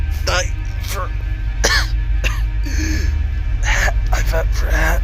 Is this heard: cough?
yes